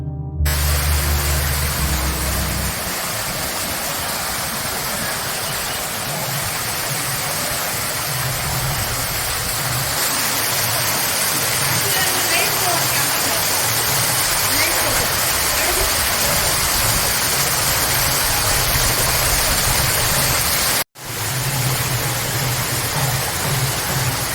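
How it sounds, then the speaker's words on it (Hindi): A waterfall at a Rajasthani village resort pours continuously, a loud, broad rushing wash close by, with a brief low rumble at the start and a short break near the end. "अब आइए वाटरफॉल दिखाते हैं।"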